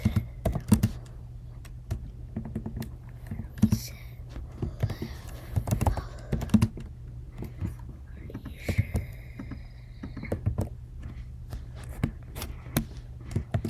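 Rapid clicking of computer keyboard keys while coding in Scratch, an irregular patter of close, light taps running throughout over a low background hum.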